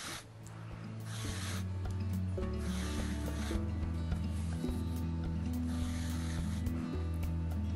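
Wool yarn pulled through a handmade crochet sweater while darning a moth hole gives soft, repeated swishing rubs and rasps over a steady low hum, with no talking.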